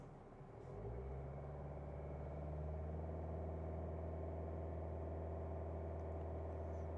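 A 2013 Vauxhall Mokka 1.7 CDTI diesel, a car that cuts out and won't crank, rises from idle to a steady 3000 RPM, a smooth droning engine hum that climbs within the first second and then holds evenly.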